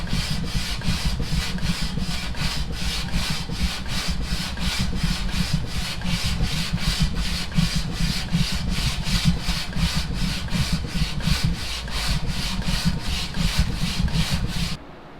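Steady back-and-forth sanding strokes rasp against a rusty metal downpipe flange in a fast, even rhythm, close up and continuous, then stop abruptly.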